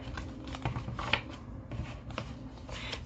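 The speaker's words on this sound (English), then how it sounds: "That's a big, thick deck, and it really needs shuffling." A big, thick tarot deck is shuffled close by, giving a quiet run of rapid, irregular card riffles and soft taps that continue throughout without any talking.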